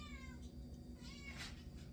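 A pet cat gives a couple of faint, drawn-out meows that slide downward in pitch. They sit low under a constant background hum and sound some distance away.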